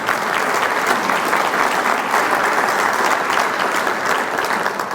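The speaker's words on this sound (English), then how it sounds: "You can applaud that." Sustained applause from a conference audience at a State of the City address, dense and even, many people clapping together loudly throughout.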